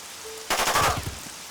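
A gunshot from the merc Ice in the rainy tactical game Jagged Alliance 2 sounds as one sharp loud crack, then a short rattling burst of echoes that fades within half a second over steady rain hiss.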